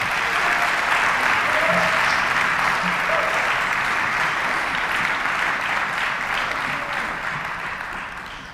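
Audience applause for a high school percussion section at an honors concert, a loud, steady mass of clapping with a few faint shouts, holding full before fading slightly at the end.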